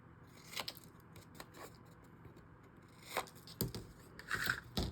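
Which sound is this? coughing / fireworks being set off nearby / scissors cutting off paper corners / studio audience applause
scissors cutting off paper corners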